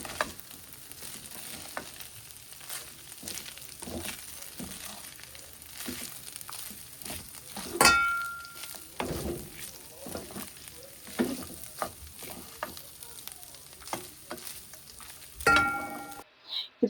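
A spoon scrapes and stirs GRB puliogare rice mix made with basmati rice in a pan, giving soft irregular scrapes and faint sizzling that continue throughout at a low, close level.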